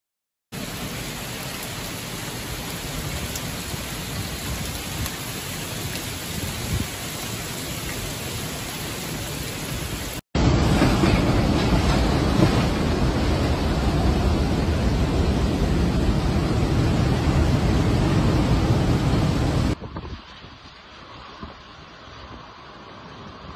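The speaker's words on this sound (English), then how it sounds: "a ferocious hailstorm tore across Rome" A ferocious hailstorm with rain in Rome makes a dense, continuous roar of hail and rain, loud and unbroken, with a brief cut and then a quieter stretch near the end.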